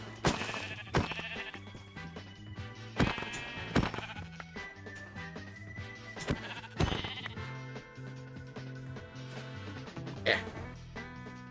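Sheep in the video game Minecraft bleat several times, short nasal calls at intervals over a steady background of game music, with no talk.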